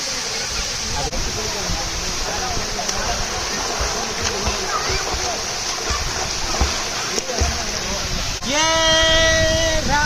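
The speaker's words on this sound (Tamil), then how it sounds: "சின்ன அருவி தான் ஆனால் கூட்டமாக இல்லை ஜாலியாக குளிக்கலாம்" Palaruvi, a small uncrowded waterfall used for bathing, rushing and splashing in a steady broadband roar, with voices talking under it throughout.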